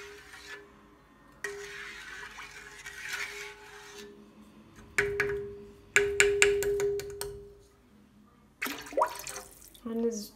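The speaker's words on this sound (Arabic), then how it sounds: "خصني نزيد واحد ربع كاس ديال الماء" Water is poured into sugar for homemade honey syrup in several short splashy bursts, close and moderately loud, separated by quieter stretches with some speech.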